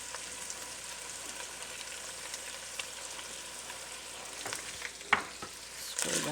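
Onions sautéing in a soup pot, a steady close sizzle and hiss with a few utensil scrapes and clinks near the end.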